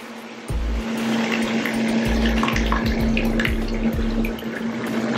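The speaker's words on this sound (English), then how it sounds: "I'm going to add my pasta sauce." Pasta sauce pouring into a crockpot while making baked ziti, a close, steady liquid stream that starts abruptly and carries on almost without a break, with soft glugging pulses and no talk.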